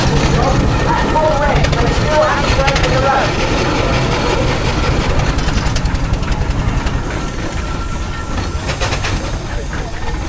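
Two steamrollers and a traction engine pull against each other in a tug of war at a country show arena, chuffing and hissing loudly and continuously. A commentator's voice runs over the engines.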